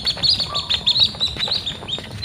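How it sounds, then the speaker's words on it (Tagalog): Wading birds walking in the shallow water of a fishpond at Panayunan, Candelaria, Zambales, giving quick high chirps and short calls in a busy, fairly close flurry over faint background noise. "Mababaw lang tubig dahil tingnan mo mga ibon."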